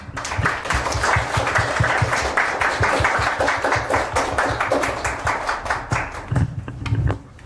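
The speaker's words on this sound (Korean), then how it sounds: "큰 박수로 환영해 주시면 감사하겠습니다" A seminar audience claps steadily for several seconds to welcome a presenter, a dense patter of many hands that thins out toward the end.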